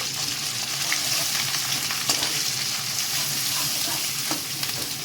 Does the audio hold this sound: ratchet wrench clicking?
no